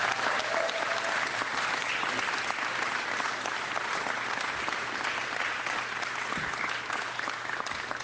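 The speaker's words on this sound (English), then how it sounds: "Let's give them a big round of applause." A steady, sustained round of applause from an audience at a political event in Canada, dense and even for the whole stretch, somewhat distant and muted.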